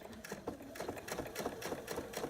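A sewing machine stitching a quarter-inch seam along quilt binding, with a fast rhythmic needle patter and low motor hum running steadily and close, with no talk.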